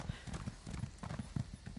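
Horse hooves clip-clop at a steady trot while riding in the video game The Elder Scrolls Online, a quick run of soft, close hoofbeats with no talking.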